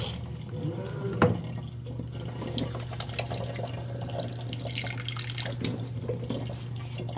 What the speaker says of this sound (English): now that all of our seeds are rinsed out and clean, and all of the orange is out of them